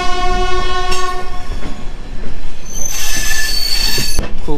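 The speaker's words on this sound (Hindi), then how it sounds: "लेकिन ट्रेन डिपर्चर हो रहा है 9:40।" A passenger train pulling out of Visakhapatnam Junction, loud and close, with high metallic wheel squeal held in steady tones, rumbling carriages and a brief horn-like blast, no voices.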